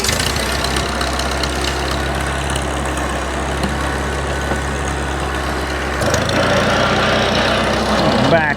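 A small Cub utility vehicle, used around a goat farm, runs close and loud after the choke is pulled. Its rough, knocking idle holds steady, then the engine note shifts and thickens about two-thirds of the way through.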